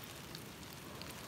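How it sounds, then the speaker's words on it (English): Light rain falls outdoors as a soft, even hiss of drops with a few slightly sharper patters, faint and steady throughout. "We're standing outside in a light rain"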